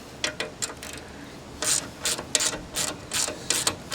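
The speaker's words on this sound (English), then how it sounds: "Now you can tighten your bolts. Make that one a little bit tighter." A ratchet tightening bolts on a wind turbine bracket gives repeated bursts of quick, close clicking, in short irregular runs separated by brief pauses, with no talk.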